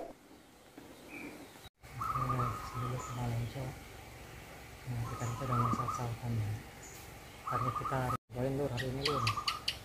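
Wild birds call repeatedly in a loud, nearby chorus of rich, harmonic phrases as they approach a caged decoy bird in a bamboo grove, with brief pauses between bursts and some high chirps near the end.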